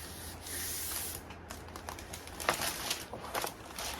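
Foam board rubbed by hand gives a close, continuous scratchy swishing with brief louder strokes and crinkly texture, steady for several seconds, alone without talk.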